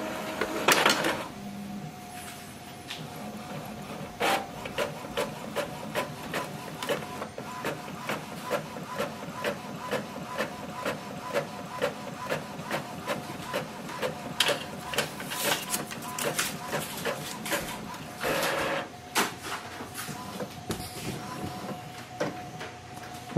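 An Epson WorkForce WF-2850 inkjet printer runs a test page, giving close, steady rhythmic mechanical clicking and whirring from the print head and paper feed for over twenty seconds with no talk.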